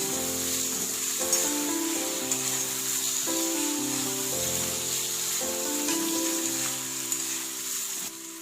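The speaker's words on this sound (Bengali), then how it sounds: "মশলার সাথে ডিমগুলো ভালো করে মিশিয়ে নেব।" Fried duck eggs are stirred into spice masala for a do pyaza in a pan, giving a constant close sizzle with faint scraping, while a steady tonal melody plays underneath throughout.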